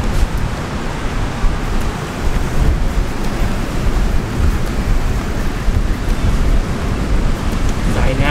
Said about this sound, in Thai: โดนลมพัดผ่านอยู่นะตอนนี้ลมพัดไป ลมแรงลมแรงมาก